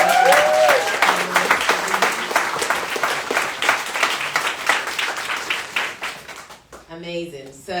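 An audience at a panel talk on diversity and inclusivity in beauty breaks into sustained applause, dense clapping that fades toward the end before a voice speaks.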